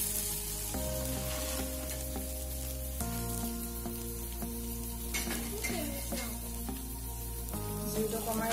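Pitha frying in a pan over a low flame for an Assamese dinner, giving a steady soft sizzle throughout under sustained music tones, with a few light clinks, no talking.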